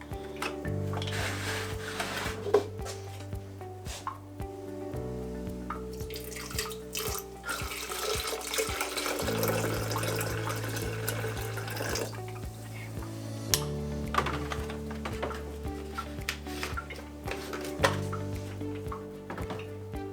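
Water runs steadily from a tap for about twenty seconds while rinsing film-developing equipment, a continuous splashing rinse with a low hum underneath and no talking.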